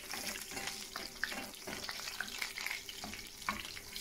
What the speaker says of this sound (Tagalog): Ayan, magigisa na po tayo.